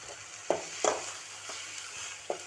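Chopped tomatoes fry with softened onions in a pan for a tomato chutney, a low, constant sizzle broken by a few sharp stirring scrapes close by.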